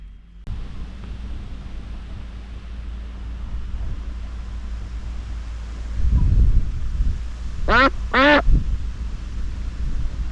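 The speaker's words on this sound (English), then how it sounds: "These mallards are on the move somewhere." Mallard ducks on a canal towpath give two short bursts of loud, close quacking near the end, after a stretch of wind noise and rustling with some low thumps.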